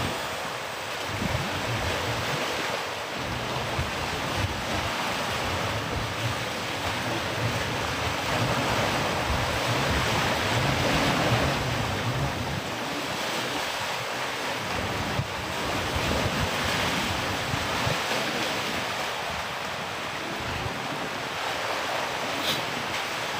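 Ocean waves breaking on a beach near Jayapura, a continuous roaring wash of surf with wind buffeting the microphone, surging and easing over twenty-odd seconds with no speech.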